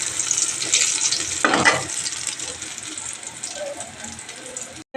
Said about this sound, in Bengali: এই যে 4 পিস বেগুন ভেজে নিচ্ছি